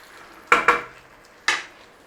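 A spoon scrapes and knocks against a pan while stirring chicken broth and cornstarch slurry: two quick clatters close together, a pause, then a third, close and fairly loud with no talk.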